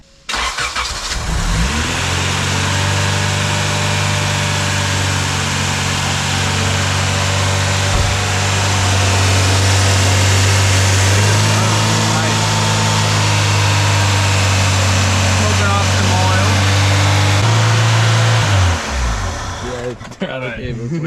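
A Honda B20 engine with an overtight throttle cable starts up and runs with a loud, steady low drone, its revs held high for most of the stretch before it drops and cuts out near the end.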